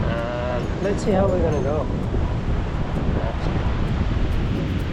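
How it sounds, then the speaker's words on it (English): Wind buffets the microphone on a New South Wales beach where fishing rods are being set up, with possible surf beneath; the steady rumble runs throughout, under someone speaking. "Everything looks good except just a little bit windy."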